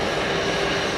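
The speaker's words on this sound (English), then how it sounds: "We've got BA's 320 with the IAE 2500 engines." British Airways Airbus A320 with IAE V2500 jet engines at Geneva Airport, a loud steady broadband engine roar filling the whole second with no pauses.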